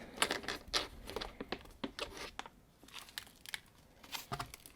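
Close crinkling and rustling of a plastic packet of cocoa powder being handled, with irregular crackly bursts and no speech.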